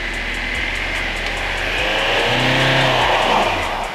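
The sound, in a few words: off-road 4x4 driving in snow with rear locker engaged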